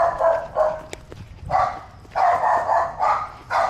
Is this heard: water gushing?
no